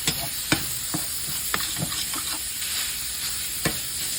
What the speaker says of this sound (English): And you wanna cook this beef. Until all of your beef is cooked.